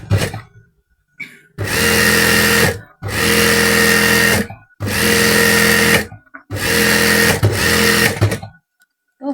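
An electric sewing machine runs in four loud bursts of rapid stitching, separated by brief pauses, as it double-stitches the border of a salwar.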